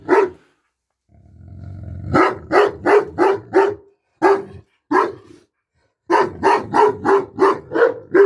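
A young Dogo Argentino or Doberman dog barks repeatedly in quick bursts, close and loud, with a low growl rising before the first volley and short pauses between groups of barks.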